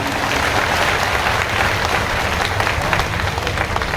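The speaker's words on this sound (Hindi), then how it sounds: "तालियों की गड़गड़ाहट कर रहे हैं।" Thunderous applause from a large audience at a spiritual discourse gathering in Garhwa, Jharkhand, a dense, loud, steady roar of many hands clapping throughout, with no speech over it.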